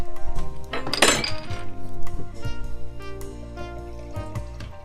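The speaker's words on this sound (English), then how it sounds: "Let's go ahead and get it open and get it into a glass" A 14.1% ABV Thin Man and 3 Sons Forever Cordial beer bottle is opened and poured into a glass, with a sharp clink near the start, then glassy taps and a steady liquid pour, close and moderately loud, no talking.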